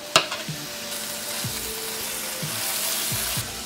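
Onion and garlic sizzle in a pan over browned bits, a steady close hiss broken by a sharp clank at the start and several soft spoon scrapes, with no voices.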